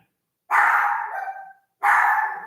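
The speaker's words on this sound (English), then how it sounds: "What are you barking at?" Two loud dog barks close by, the first longer and trailing off, followed by a second sharp bark after a short pause.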